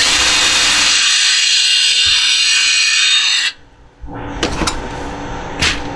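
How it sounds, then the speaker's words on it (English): A small power drill boring a pilot hole into a cigar box guitar, a steady high whirring grind that runs for several seconds, then stops abruptly, followed by a few short knocks and clatters nearby. "I'm going to drill a little pilot hole right there."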